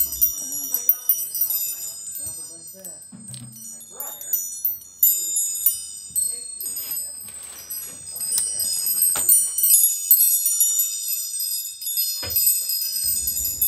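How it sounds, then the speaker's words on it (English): A vintage fireman wind chime jingles while carried around at an estate sale, its bright metallic tinkling ringing steadily in close, uneven clusters with handling noise and scattered soft knocks. "Be sure to look up so you could find a treasure like this fireman wind chime"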